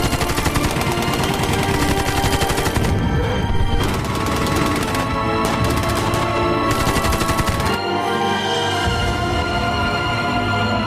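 Dense, rapid machine gun fire fills a war film battle scene in which North Korean troops shoot down a soldier; loud continuous bursts of shots crackle and overlap, with a short lull before the firing resumes, and no voices.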